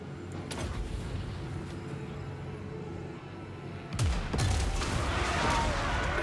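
Artillery guns fire in a video game, a rumbling barrage of booms with sharper blasts around the four-second mark, moderately loud against continuous battle noise.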